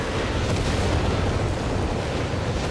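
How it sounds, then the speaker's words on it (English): Incendiary rocket explosions in the video game Company of Heroes 3, a loud continuous rumble of overlapping blasts and booms filling the whole stretch. "Unleash another wave there of incendiary rockets. Decimating little Freya's positions once more."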